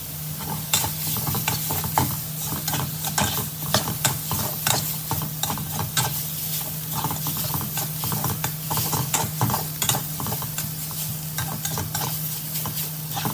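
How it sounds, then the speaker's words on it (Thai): Minced pork stir-fried with southern Thai curry paste in a pan: a constant sizzle under rapid, repeated scraping strokes of a spatula, close up and fairly loud, with no talking. "ผัดให้ พริกแกงใต้กับหมูสับเนี่ย เข้าเป็นเนื้อเดียวกันนะฮะ"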